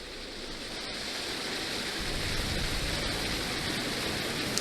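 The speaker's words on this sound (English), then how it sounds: "The waterfall is beautiful as it flows down." Steady broadband rush of a waterfall in the horror game Fatal Frame: Maiden of the Black Water, a constant even roar that swells slightly and continues unbroken with no voices.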